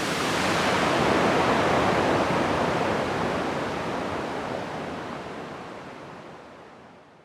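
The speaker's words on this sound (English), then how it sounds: "Let's fade out to some nice roar of the waterfall." A waterfall near Taipei roars as a dense, steady wash of falling water, loud and close, slowly fading out toward the end with no voices.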